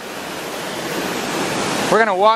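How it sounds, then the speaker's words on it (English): Tunnel Falls, a large waterfall on Eagle Creek in Oregon, gives a loud, steady broadband roar at close range. A person speaks briefly over the roar near the end. "That's a big waterfall."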